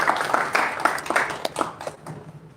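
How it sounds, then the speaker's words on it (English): Members at a Toastmasters club meeting give a brief round of applause, a short burst of scattered hand claps that thins out and fades within a few seconds. "another round of applause for Kunal for taking the sarul at the last moment"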